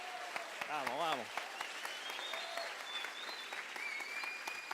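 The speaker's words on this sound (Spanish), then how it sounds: "¿Por qué no le damos un aplauso fuerte a Leo?" Audience applause in a hall, a steady clatter of many hands clapping at moderate distance while a voice speaks over it.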